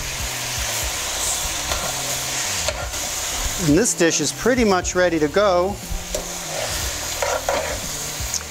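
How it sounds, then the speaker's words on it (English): Lamb rogan josh sizzles and is stirred in a hot pan, a steady frying hiss with scraping strokes, while a person talks over the middle of it. "You can hear the heat come right out of the pan when I add all that stuff."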